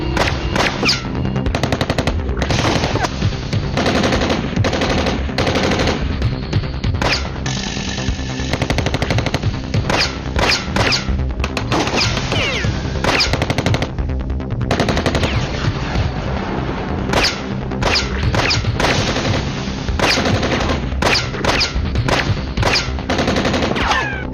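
Sustained machine gun fire in a night-time scene from a Tamil horror TV serial, following an order to fire. Loud, dense bursts rattle on continuously for the whole stretch with no pauses.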